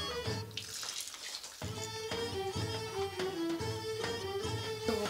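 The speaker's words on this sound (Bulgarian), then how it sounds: "слагаме 4 купички ще сложим вода към ориза и 3 към булгура" Water is poured from cups into a cooking pot of rice and bulgur in a series of short splashing pours separated by brief gaps, close and clear, with no talking.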